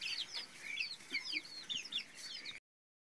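Chickens on a farm, tired out by intense heat, clucking close by in a continuous run of short, repeated calls. The clucking stops abruptly into silence near the end.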